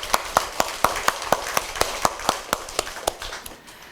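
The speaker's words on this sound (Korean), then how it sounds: "우리 하나님께 한번 힘찬 박수로 하나님께 영광 돌리시겠습니다" A church congregation applauding during a Sunday morning worship service, heard as sharp, evenly spaced claps in a steady rhythm that gradually fade.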